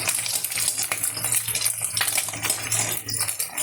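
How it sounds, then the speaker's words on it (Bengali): Thin egg-based mock paneer frying in a pan, a steady close sizzle with scattered clinks and scraping of a utensil against the metal, no talking. "এই যে আমি একটু ভেজে দিচ্ছি, দেখুন কত সুন্দর হচ্ছে।"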